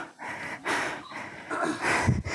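Heavy, labored breathing of a person out of breath after climbing uphill, a run of close, loud panting breaths and gasps with no talk.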